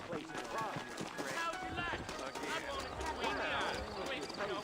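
Steady clip-clop of horse hooves at a walking pace in the video game Red Dead Redemption, continuous throughout, with voices talking over it.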